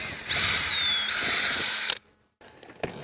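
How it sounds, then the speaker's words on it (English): A power drill backs out screws from an RV roof vent: one high whirring run of about a second and a half, then near silence and a few small clicks. "you can remove the screws securing the vent to the roof"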